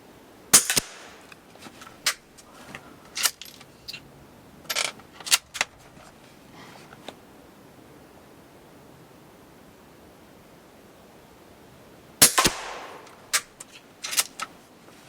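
Scattered sharp cracks from a .22 Long Rifle Citadel carbine fired outdoors on rural land among ferns, with several sharp impacts of bullets striking wood, irregular and spread out, set against a soft background hiss.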